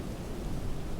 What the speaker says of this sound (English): As you can see, it's raining here.